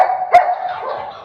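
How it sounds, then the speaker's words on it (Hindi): A pug gives a single sharp bark followed by a lingering whine-like tone indoors at home, loud and close. "टाइसन भी भौंक रहा है"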